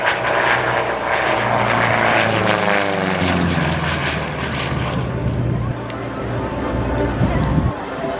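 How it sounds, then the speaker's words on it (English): A P-47 Thunderbolt warplane with an R-2800 radial engine at an air show: a loud, sustained propeller drone that rises and shifts in pitch as the aircraft passes, heard alone. "That R-2800 radial engine, which unlike comparable liquid-cooled engines at the time, had a high tolerance for damage"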